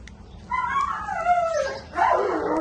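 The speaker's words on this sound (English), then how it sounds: "excuse the dog in the bed." A nearby dog lets out a drawn-out, whiny vocalization, a howling whimper that rises and falls, then a second louder yelp-like cry.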